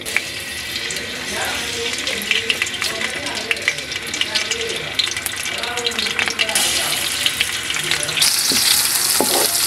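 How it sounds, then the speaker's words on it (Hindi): Onion with garlic ginger paste stir-fried in a pan, a continuous close sizzle with scraping stirring, and louder watery hissing toward the end. "इसको थोड़ा सा स्टीर फ्राई करना है, और साथ ही मैंने इसके अंदर ऐड कर देना है चिकन।"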